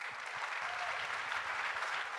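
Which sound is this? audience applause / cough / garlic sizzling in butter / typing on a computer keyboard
audience applause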